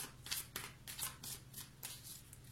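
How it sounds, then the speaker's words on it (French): Tarot cards are set down one after another on a table during a reading, a series of soft, quick papery slaps and brushes at a steady pace, close and fairly quiet with no talk over them. "Je vais mettre 2 cartes pour la tour."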